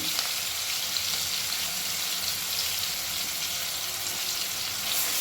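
Onion paste with turmeric and salt frying in a pan of hot oil, a loud, constant close sizzle with faint stirring underneath, steady from start to finish and free of speech.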